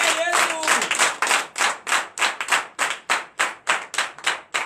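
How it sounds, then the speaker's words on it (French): A church congregation at a Sunday worship service in Comè, Benin claps for Jesus in a steady, loud rhythmic beat of about four claps per second, with a few voices briefly at the start. "Donnez encore l'acclamation à Jésus."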